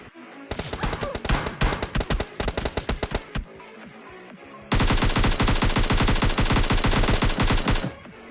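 Gunfire in PUBG Mobile Lite, first as a run of separate loud close shots in uneven bursts, then after a short pause a long, dense, rapid automatic stream that stops abruptly.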